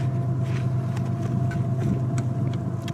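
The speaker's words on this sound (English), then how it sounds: "Sorry for the background noise, a train decided to run." A steady low rumble, like a train passing at a distance, holds at an even level throughout with faint clicks above it.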